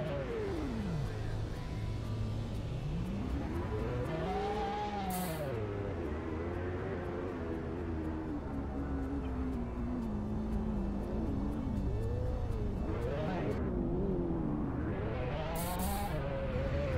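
Lamborghini Aventador driven in the Roblox game Drive-Shaft, a synthetic engine note sweeping up and down as it revs and shifts over a steady low rumble, with brief bright bursts near the start and end.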